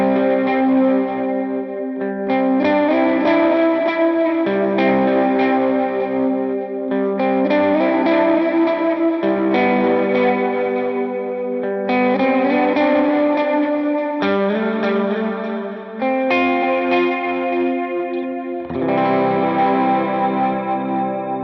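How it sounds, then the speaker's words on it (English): Electric guitar run through an HX Stomp with overdrive, reverb and delay plays loud, ringing chord phrases that repeat every few seconds, with echoes and a lush reverb tail blending between strums. No one speaks. "I feel like the amount of overdrive happening there is pleasant. Our reverb and our delay sound great together."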